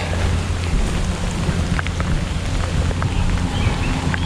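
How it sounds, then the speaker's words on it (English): Steady, heavy rain hisses throughout while low thunder rumbles underneath, continuous and close, with no pauses, at a campsite with a covered tent in Split Rock State Park on the North Shore of Lake Superior. "I hear lots of thunder."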